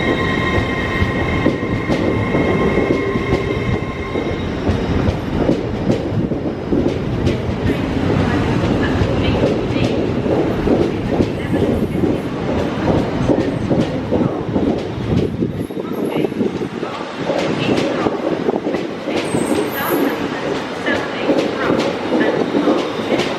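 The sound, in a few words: train 801 226 departing Leeds for King's Cross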